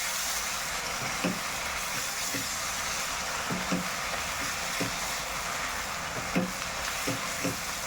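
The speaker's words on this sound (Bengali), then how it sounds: "আদা রসুন পেস্ট আমি পেঁয়াজের সাথে ভালো করে একটু কষিয়ে নিচ্ছি" Onion sizzles with ginger garlic paste in a pan for a mutton dish, a continuous close frying hiss with short scraping stirs every second or so.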